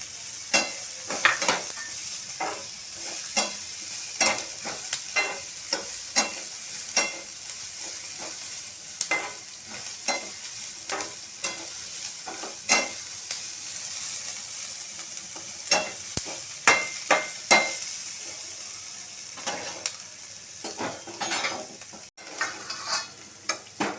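Vegetables stir-fried briefly in a hot pan for Schezwan noodles: a continuous close sizzle punctuated by frequent clanks and scrapes of the spatula against the pan.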